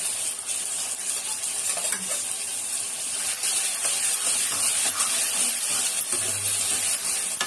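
Prawn thokku being stirred into simmering kuzhambu, a soft continuous bubbling sizzle with faint scraping stirs and occasional light clinks, steady and close, with no talk.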